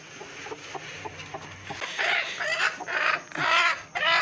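Hens set on eggs in a village cluck in short, overlapping bursts, fairly close, growing busier and louder toward the end with no talking.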